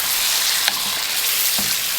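Chicken pieces coated with turmeric fry over a full flame in a karahi, giving a steady loud sizzle with a couple of brief utensil knocks and no voices.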